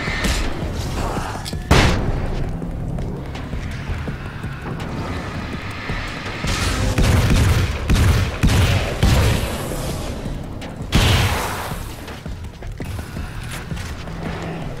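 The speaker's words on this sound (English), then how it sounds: "Oh shit, flashbang." A flashbang grenade goes off in the video game Alan Wake American Nightmare. It is a sudden loud burst that rings over a constant rumbling game ambience, and a second similar blast follows several seconds later.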